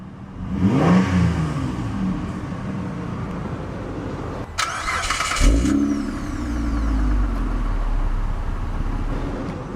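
A 2007 Mitsubishi Galant 3.8 GTS starts up with a short crank and catch, then a burst of revving. The exhaust settles into a steady, close idle rumble with no talk.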